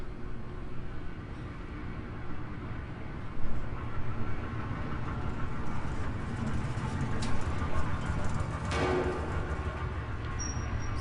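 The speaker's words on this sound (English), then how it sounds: "Is that a tram?" A tram rumbles along its rails in Amnesia: A Machine for Pigs, a low continuous mechanical drone with faint clanks and a brief thump, steady and moderately distant inside an industrial space, with no one speaking.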